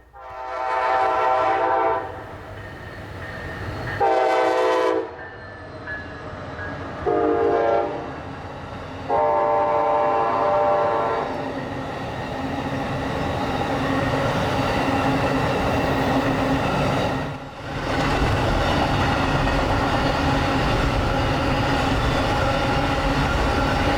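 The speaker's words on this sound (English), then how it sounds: "Next up would be the southbound auto train PO53" Southbound Amtrak Auto Train passing through Folkston, Georgia, sounding several long, loud horn blasts before the steady rumble and clatter of the passing cars carries on close by, with a brief dip partway through.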